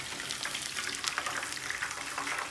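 Cornstarch-coated shrimp fry in hot oil for salt and pepper shrimp, giving a dense, steady crackle and sizzle. Sharp pops break through the sizzle close up, with no voices over it.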